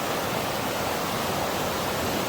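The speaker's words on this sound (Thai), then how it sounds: "ตอนนี้เสียงน้ำแรงมาก" Loud, steady rushing of a fast-flowing mountain stream, a dense continuous roar heard up close with no other sounds.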